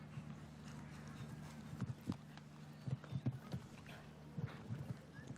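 A racehorse gallops in a show-jumping derby, hoofbeats coming in uneven bursts of thudding strikes over a steady low hum, moderately faint and without voices.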